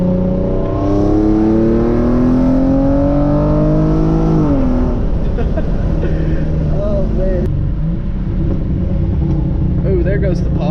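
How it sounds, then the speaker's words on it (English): A Hyundai Genesis Coupe with an aftermarket exhaust revs loud and close, its pitch climbing and then dropping on a second-gear downshift with crackling pops. A constant engine roar fills the background. "There goes the pops. Do a second gear downshift."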